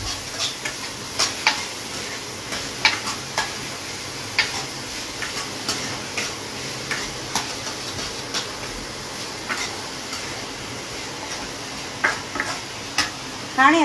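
A spoon mixes boiled corn with other ingredients in a home kitchen, giving a steady series of light clinks and scrapes over a constant background hiss.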